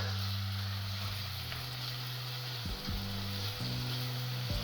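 Chopped onion sizzles steadily in a hot frying pan as it turns glassy, a continuous crackling fry with a low electric hum and a few soft stirring knocks underneath.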